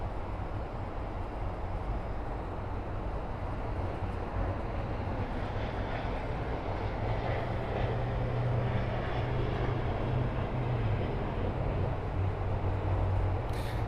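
An Airbus A330-900neo, about a year old, takes off at Miami airport: a steady, broad jet-engine roar with a low rumbling drone holds constant and fairly loud throughout, with no voices.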